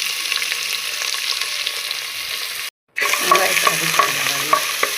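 Onions frying in a pan for chicken biryani, a steady close sizzle broken by a brief silence, then stirring with light clinks and scrapes.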